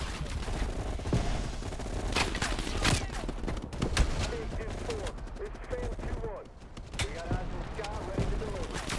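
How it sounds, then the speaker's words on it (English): Grenade blasts and bursts of gunfire in the Call of Duty: Black Ops Cold War campaign, dense rapid shots with a heavy boom, under a player's voice talking over the action. "Grenade, boom."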